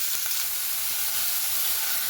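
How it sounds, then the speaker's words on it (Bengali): Chopped onion, green chilli and a few garlic cloves frying in hot oil, giving a steady, dense sizzle with a faint crackle near the start and no talking. "তেলটা গরম হয়ে গেলে এর মধ্যে দিয়ে দিচ্ছি পেঁয়াজ কাঁচা লঙ্কা আর একটু দু চার কোয়া রসুন"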